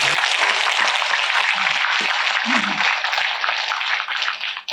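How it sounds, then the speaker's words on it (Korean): Temple congregation at a Buddhist special dharma assembly at Beomeosa applauding, a dense, steady roar of many hands clapping at moderate distance that carries on evenly before thinning out at the very end. "여기도 박수 한번 치세요"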